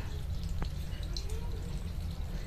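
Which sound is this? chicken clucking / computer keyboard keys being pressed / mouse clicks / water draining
water draining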